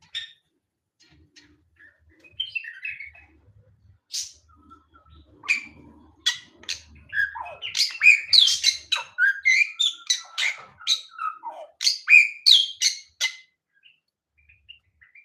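Weaver birds chirp and twitter while building nests in an aviary in the morning. The calls begin sparse and grow into a busy run of close, sharp chirps and trills, with no talking.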